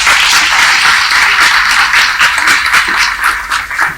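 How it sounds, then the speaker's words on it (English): Audience at a G20 summit event applauds, a dense, continuous wash of many hands clapping that holds steady for a few seconds, loud and fairly close, with no voices over it. "I think it deserves a big round of applause all over again."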